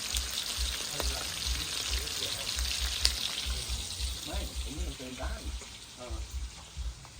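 Steady sizzling and crackling of garlic frying in a pan, with faint voices murmuring in the background.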